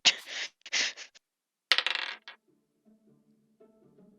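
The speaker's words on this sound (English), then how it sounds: "Don't mind the sound of rolling dice." Dice roll and clatter on a hard surface in a few quick bursts of rattling, then a softer faint tumbling as they settle, close and alone without talk.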